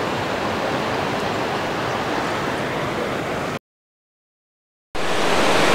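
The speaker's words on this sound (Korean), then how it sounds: "어제 비가 많이 왔기 때문에 물소리가 시원합니다" A rain-swollen mountain stream in Hwayang Valley rushes steadily with a broad, loud hiss, broken by a short silent gap before the flow resumes.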